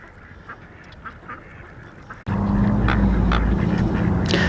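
Ducks at a park pond in Andrews, Texas quack in scattered calls, first faint and then partly masked as a loud steady rumble of wind or engine noise rises halfway through.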